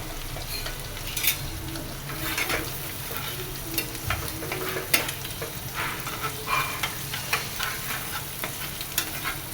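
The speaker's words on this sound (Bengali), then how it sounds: "ডিমটা একটু ভেজে নেই।" An egg fries in a pan before noodles go in, a continuous sizzle with frequent scraping spatula strokes that grow more regular toward the end, close and fairly loud.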